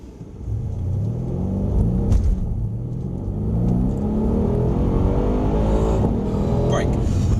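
A Mercedes-Benz car accelerating at Mercedes-Benz World, a loud, close engine rumble that climbs steadily in pitch through rising gears over several seconds, with voices talking underneath.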